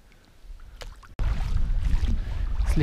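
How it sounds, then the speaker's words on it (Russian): Wind picks up over open water during a fishing trip, starting as faint splashing and then turning abruptly into a steady, loud, rumbling wind roar buffeting close by. No one speaks. "Слегка ветер поднялся."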